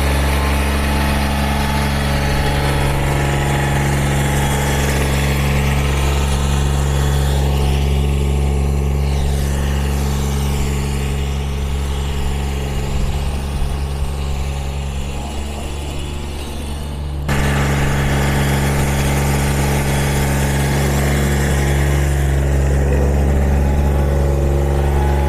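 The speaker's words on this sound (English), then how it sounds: "gonna fire up this mower" A putting green mower engine runs steadily at a constant idle for the whole stretch, loud and close, with no talk, its tone shifting slightly midway before settling back.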